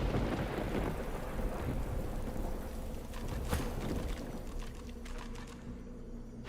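Rain and thunder in the video game Divinity Original Sin 2: a constant dense downpour hiss with low rumbling thunder rolling beneath it and no speech.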